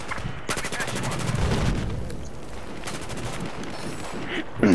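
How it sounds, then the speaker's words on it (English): Rapid bursts of MG42 machine gun fire ring out in the Battlefield 4 video game, a fast buzzing rattle of shots with pauses between, fairly loud over a busy game background. "What's that buzzsaw noise, dude?"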